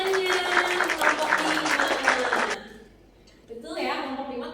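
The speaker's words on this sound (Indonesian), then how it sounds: "Baik, beri tepuk tangannya" A classroom group applauds after a presentation on observation report texts, with a burst of clapping for about two and a half seconds, then a teacher's voice speaks.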